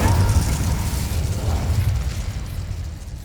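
An Incendio fire spell blasts out in Hogwarts Legacy, a loud low whooshing burst of flame that roars and then slowly fades.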